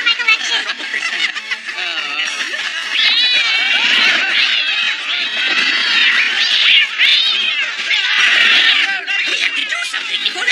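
A cartoon cat meows and caterwauls loudly and almost without pause, shrill wavering cries layered over one another, mixed with snickering and voice-like squeals throughout.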